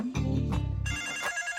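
A telephone rings in a Malayalam film scene: two short, bright bursts of ringing close by with no talk.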